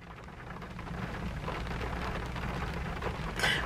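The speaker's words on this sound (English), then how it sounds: "the rain is getting into the car" Steady rain pours outside a car, a dense, even hiss of drops on the surfaces that grows slightly louder near the end, with no voices.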